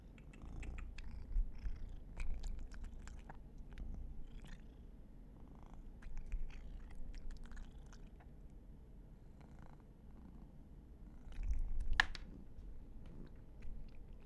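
A cat purrs softly and steadily up close, a low rumbling drone with faint clicks and small rustles, quiet throughout with a slightly louder swell near the end.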